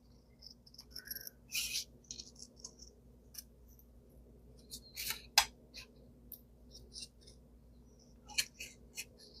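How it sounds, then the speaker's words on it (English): Scissors snip through paper while cutting out a paper flower, a series of short crisp close cuts in irregular bursts over a quiet background. "And then we're going to cut this out."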